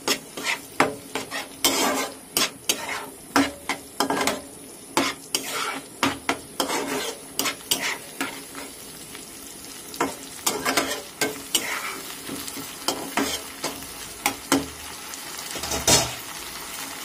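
A paste of ginger, cumin, garlic and green chili frying in a pan, with a soft continuous sizzle broken by repeated rhythmic scraping and clinks of a spatula against metal, and no talking.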